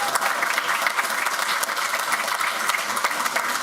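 Audience at a school board of education meeting applauding Central Elementary principal Brandy Leggett, a dense steady burst of many hands clapping at close range, with scattered cheers and no talk.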